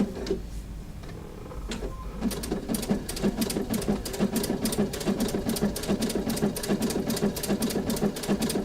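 A sewing machine stitches at a steady pace, its motor hum carrying a fast, regular ticking of the needle that grows crisper after a brief start, close and fairly loud.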